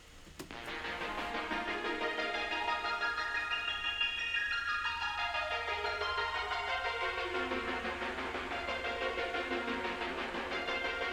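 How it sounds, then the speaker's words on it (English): A fast, frantic synth arpeggio for a cyberpunk lofi track, panning from left to right, plays in quick repeating runs that sweep down and back up in pitch, fairly quiet and alone. "So the next thing we add is the frantic arpeggio."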